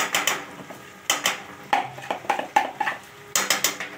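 Large prawns go into a pan of hot oil with fried ginger and garlic for prawn biryani, giving a series of sharp metallic clatters and scrapes of a utensil against the pan in quick irregular bursts, close and fairly loud.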